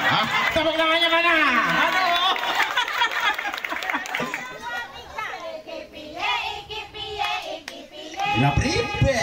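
A group of women at a marching-drill cheer practice in Randusari clap their hands in a rhythm while chattering and chanting over it, loud and close, with voices dominating throughout.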